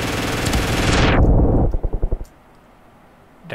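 MG42 machine gun fire in the Ravenfield video game, loud and close, with a dense continuous burst followed by a handful of distinct rapid shots that cut off into quiet.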